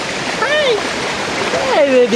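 Water rushes steadily close by as a drinking-water stream flows at Anayadi Kunnu, while people talk over it.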